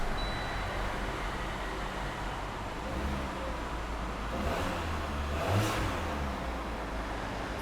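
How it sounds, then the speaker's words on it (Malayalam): A car engine, started with a push button, hums at a steady idle up close, with a faint rise in rumble partway through; no talking. "ഞാൻ വണ്ടി നിങ്ങൾക്കൊന്ന് ജസ്റ്റ് ഒന്ന് സ്റ്റാർട്ട് ചെയ്ത് കാണിക്കാം"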